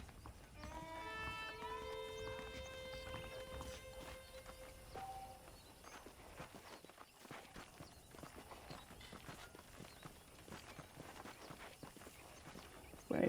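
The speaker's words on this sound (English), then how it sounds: "The horses are saddled up over here." Horse hooves clip-clop at a walking pace in the PS5 game Red Dead Redemption, steady and moderately close, with faint musical tones and ambient game sound underneath.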